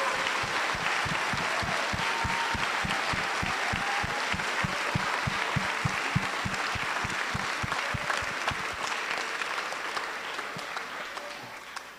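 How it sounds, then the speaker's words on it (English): A school holiday concert audience claps loudly and continuously, with a strong rhythmic beat running through the first part before it fades into looser applause. "Let's give Mr. Guerrero and Mrs. Wickman a big round of applause."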